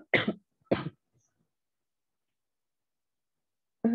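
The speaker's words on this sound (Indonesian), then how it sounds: "Mohon maaf teman-teman, saya sambil batuk." Two short, sharp coughs close together, followed by silence and then a brief sound at the end.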